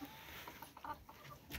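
An Isa Brown laying hen on a farm in winter clucks softly several times, fairly faint against a low background hiss.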